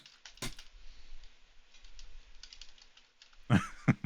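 Someone types on a computer keyboard, quiet and sparse, with a few louder key clicks and a short burst of strikes near the end.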